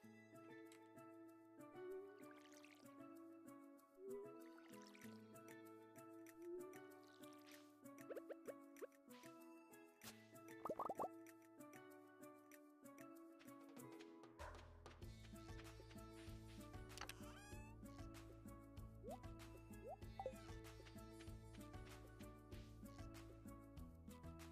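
Watering crops with a watering can in Stardew Valley, heard as repeated soft watery plops and drips over cheerful game music, with an occasional brief burst.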